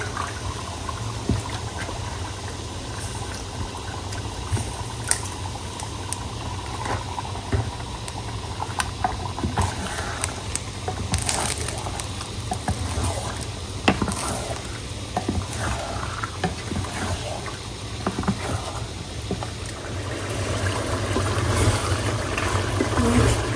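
Chicken curry simmers and bubbles in a pot, made with reduced chili, a steady continuous boiling hiss with a low rumble beneath and scattered small pops, close and fairly loud, growing slightly stronger toward the end with no talking.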